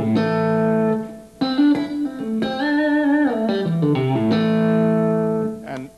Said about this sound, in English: these two together, the neck and the middle pickup,